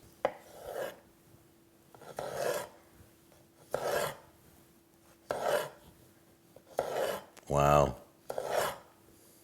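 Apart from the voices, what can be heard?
knife cutting an overly ripe tomato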